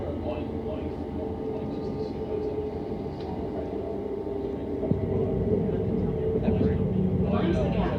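A TfL Rail train between Paddington and Heathrow rumbles steadily from inside the carriage, a low continuous hum and rattle with a faint whine, growing slightly louder midway, with an announcement voice over it.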